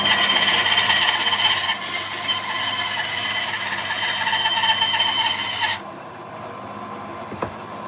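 A bandsaw fitted with a new blade cuts through wood, a loud, steady high grinding rasp that runs for several seconds and then stops abruptly, leaving a quieter hum behind, with no talking.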